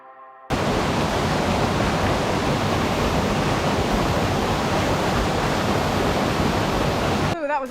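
Twin Falls waterfalls on Venford Brook, Dartmoor, a steady, loud, broad rush of falling water that starts abruptly and holds constant, with a voice briefly at the edges.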